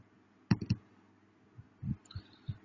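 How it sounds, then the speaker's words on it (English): Fingers tap on a table in a few scattered, soft knocks: a quick cluster of three, then single and paired taps, faint in a quiet room. "that noise is my tapping the table, Nikita."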